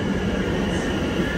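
A train pulling into a London station, a steady low rumble with broad hissing noise that holds constant and loud throughout, no voices.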